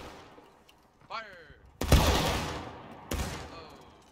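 Musket volley fire in War of Rights, with a loud ragged crash of many muskets at once, a second volley about a second later, and faint shouted voices before the shots.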